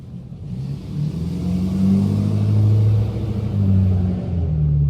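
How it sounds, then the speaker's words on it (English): Deep rumbling engines of loud trucks driving through a residential neighborhood, swelling and revving close by with a heavy low drone and no talk. "Many of my neighbors have very loud trucks."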